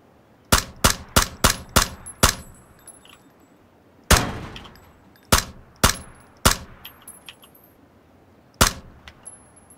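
Gunfire in the video game PUBG cracks out sharply, first a rapid string of about six shots, then a single blast, a trio of spaced shots and one late shot, each with a metallic ring.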